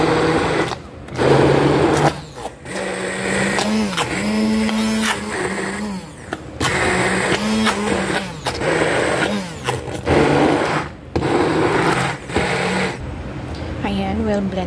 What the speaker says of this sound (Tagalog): Ito na yung dates natin kanina i-blend.